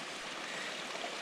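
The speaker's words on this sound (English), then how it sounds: "you can see the water, it just comes out everywhere." Spring thaw meltwater running out of saturated ground after heavy rain, a steady close rushing and trickling wash with no pauses.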